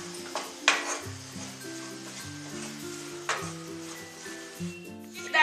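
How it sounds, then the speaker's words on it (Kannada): Chilies frying and being stirred in hot oil in a pan, a steady close sizzle broken by scraping and clinks of a utensil against the pan, with no talking. "ಎಣ್ಣೆಯಲ್ಲಿ ಚೆನ್ನಾಗಿ ಹುರ್ಕೊಳ್ಬೇಕು"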